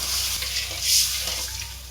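Water poured into a pan of fried spice masala for a katla fish curry with eggplant and potato, a steady close rushing splash lasting about two seconds with no talk.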